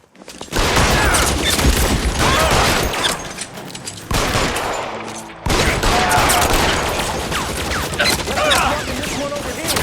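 Loud, dense gunfire rattles almost nonstop in a shootout in the video game L.A. Noire, with volleys of shots that pause briefly twice before resuming at full intensity.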